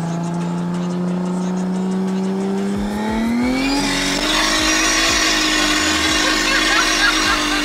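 A 600hp RB-engined Nissan Stagea wagon accelerates hard in second gear, its engine note climbing loud and close, then a brief gearshift dip before a rising, roaring pull continues with whining drivetrain.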